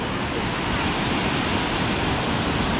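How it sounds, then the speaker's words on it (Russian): Sea waves wash onto the beach at Anapa on the Black Sea coast, a loud, steady surf roar with some wind noise on the microphone and no speech. "Дим предлагает зайти немножко до коленки и поснимать вам волны."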